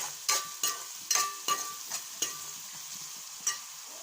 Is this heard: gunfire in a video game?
no